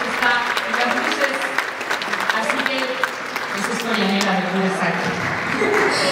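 Audience applause fills the hall at a Christmas musical show, a steady wash of clapping from a large crowd with some voices mixed in, continuing throughout.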